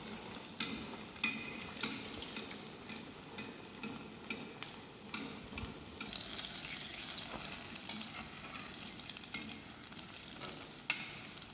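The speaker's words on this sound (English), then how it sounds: "We have to fry till they get the nice golden brown in color" Malai kofta balls fry in hot oil with a steady, dense sizzle and crackle and scattered sharp pops, holding even throughout with no talking.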